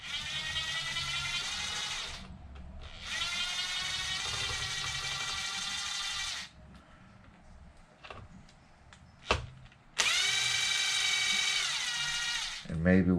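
Cordless driver unscrewing the bumper screws on an Arrma Infraction V2 RC car: three bursts of high whirring, each a couple of seconds long, separated by quieter pauses and small clicks. It is close and loud, with no talking.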